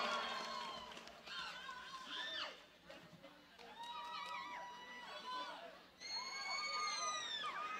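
A concert crowd at the Sarasin Music Festival 2024 cheers, shouts and sings along in bursts, with excited voices rising and falling all the way through.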